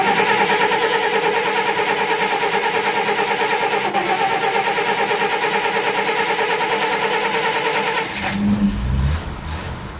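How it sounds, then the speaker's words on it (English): A 1947 Plymouth engine cranks steadily with a buzzing starter drone after a jump start from a portable pack, then catches near the end with a low, rough rumble as it settles into running. The sound is close and loud. "There we go, we have a successfully running 47 Plymouth with the help of Andeman."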